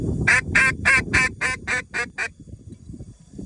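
A duck call blown in a quick run of eight sharp quacking blasts during retriever hunt-test training, loud and close, then fading into low outdoor rumble.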